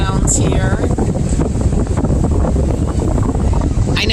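Strong wind buffets the microphone at an amusement park with a loud, constant rushing roar throughout and faint background sounds beneath it.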